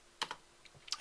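Brief burst of keystrokes typing a command on a computer keyboard, a few quick close clicks in an irregular rhythm, fairly quiet with no speech.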